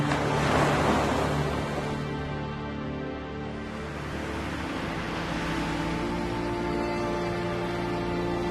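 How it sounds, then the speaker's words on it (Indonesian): Ocean waves roll and break on the beach at Aluenaga, Banda Aceh, a steady broadband wash of surf with a louder surge at the start and a continuous rumble throughout, with no voices. "Debur ombak di pantai Aluenaga, Banda Aceh"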